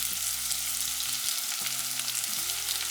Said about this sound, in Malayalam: ഒന്നും കൂടെ ഒന്ന് വഴറ്റി കൊടുക്കാം